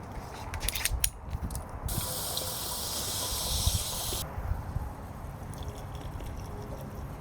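An IK hand pump sprayer misting pre-treatment onto a Toyota Corolla hatchback during a wash: a steady pressurized hiss for a couple of seconds, preceded by clicking pump handling and followed by softer rustling and movement.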